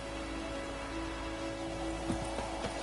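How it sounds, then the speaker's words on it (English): Steady rain falls in the video game The Witcher 3: Wild Hunt with a constant hiss, plus a low hum and a couple of soft knocks, no voices. "It's raining, it's pouring, and Bromir's snoring."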